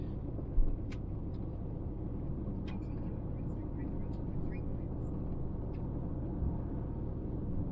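A car drives along a gravel road on a rural Madison County route near Roseman Bridge, giving a steady, close, continuous rumble of tires and engine with a few faint higher ticks above it.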